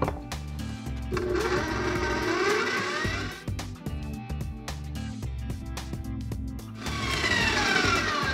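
A kitchen mixer runs loudly and continuously, beating cheesecake batter sweetened with maple syrup, its whirring pitch dipping and rising as the beaters work through the mix.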